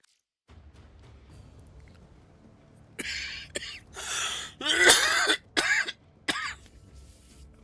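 A livestreaming gamer coughs and clears their throat away from quiet game audio, a short burst of several harsh, close coughs after a near-silent start.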